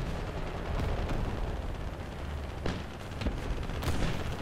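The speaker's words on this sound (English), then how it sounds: "I hear the guy on the left getting shot pretty hard" Gunfire pounds an armored tank during a War Thunder April Fools battle of exoskeleton suits against tanks, a constant rumbling din of distant shots and impacts with a few sharper cracks standing out.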